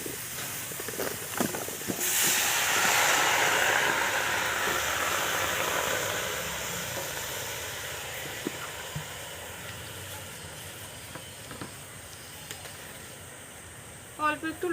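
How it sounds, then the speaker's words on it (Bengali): Taro greens dropped into a hot, dry wok give a loud burst of hissing steam that swells and then slowly dies down to a softer sizzle, with a few small knocks near the end. "শুকনো কড়াইতে আমি কচু শাকটা দিয়ে দেবো।"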